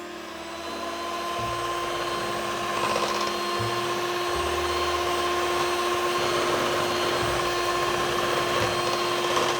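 An electric hand mixer whirs steadily while blending banana batter for Thai banana lotus cakes, a continuous motor drone that ramps up at the start and holds for nearly ten seconds with no talking.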